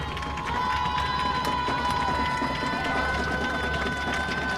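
Crowd at a high school Class B state quarterfinal football game, Kindred versus Central Cass, roars in a steady, continuous wash of cheering at moderate distance, with a brief swell near the start and faint voices mixed in.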